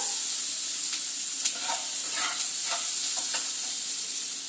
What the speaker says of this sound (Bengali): পেঁয়াজটাকে একটু লাল করে ভেজে নেব